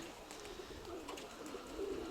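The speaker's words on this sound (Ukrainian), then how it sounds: "оце Зелененко Анатолія Дмитровича Голубеньонок" A young pigeon gives a soft, low cooing call outdoors under an overcast sky. The call is faint and is clearest near the end, set against steady background noise with no talking.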